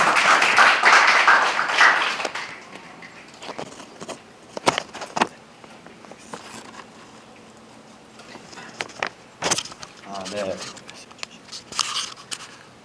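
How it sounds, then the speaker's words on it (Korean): Audience applause at a Seoul Ethereum meetup. Loud clapping lasts about two seconds and then stops, followed by someone speaking and scattered taps and handling noises. "큰 박수로 맞아주시면 감사하겠습니다."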